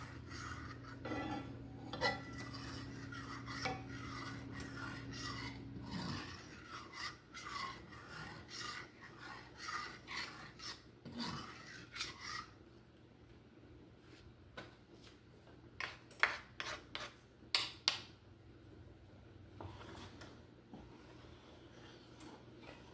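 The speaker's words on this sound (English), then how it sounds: "when you're doing this gravy, you have to stir from the bottom of the pan because you want all of those drippings" Scraping strokes of a utensil stirring gravy of pan drippings and flour across the bottom of a pan, quiet rasping rubs in an uneven rhythm with sharper clicks toward the end, no voices.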